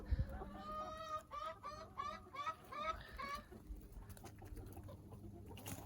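Chickens cluck in a quick run of short, nasal calls, close by, then fade into quieter farmyard background noise.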